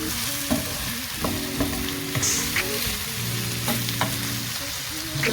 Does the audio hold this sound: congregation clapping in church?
no